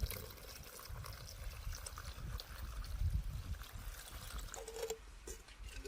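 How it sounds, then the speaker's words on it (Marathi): Hot water is poured into an eggplant curry cooking over a wood-fired stove, a faint, uneven trickling and splashing stream that lasts several seconds with no voices. "तर आता आपल्याला जेवढा रस्सा बनवायचा आहे तेवढं गरम पाणी वापरायचं"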